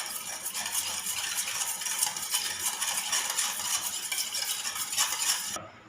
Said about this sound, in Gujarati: તેમાં પાપડ ખારો નાખીશું અને થોડું તેલ નાખીશું। આને બરાબર મિક્સ કરી લઈશું।